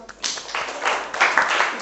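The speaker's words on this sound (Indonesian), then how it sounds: "Tepuk tangan untuk Mbak Alisa" Classroom applause for a student, a burst of clapping that starts after a brief quiet moment and keeps going, fairly close and steady, with small swells.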